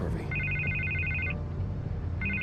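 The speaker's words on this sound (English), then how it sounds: "I can't get the phone to stop ringing." A telephone rings in the Telltale Batman video game, repeating electronic trills against a steady background with speech-like sounds underneath.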